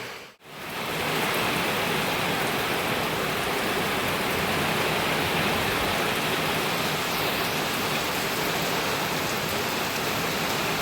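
Steady, heavy rain pours down continuously, a dense hiss of drops on surfaces with no voices.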